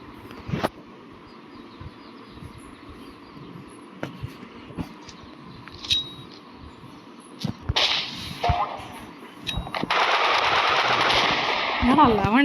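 Gunfire in the Roblox shooter Rivals: scattered single shots and short rapid bursts, then dense sustained firing over the last few seconds, loud and close.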